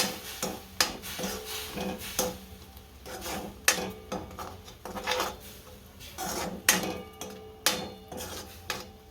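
A spiced oil-free potato curry with green chillies, coriander-cumin powder, asafoetida, salt and tomato is stirred in a pan, a spoon scraping the pan in repeated rhythmic rasping strokes, close and clear, with no talking.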